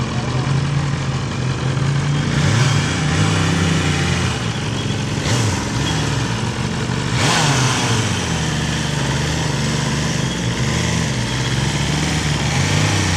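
A motorcycle engine revs and idles throughout a group riding lesson, with a continuous close engine drone that rises and falls as the throttle and clutch are worked.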